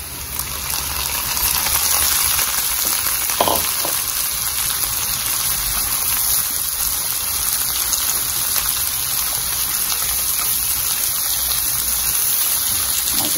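Chopped tomato and bell pepper go into a pan of sautéing onion and garlic, setting off a loud, steady hiss and sizzle of frying that holds close and constant throughout.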